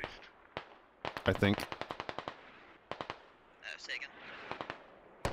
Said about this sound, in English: Now this is a smoke deployment, or smoke artillery deployment,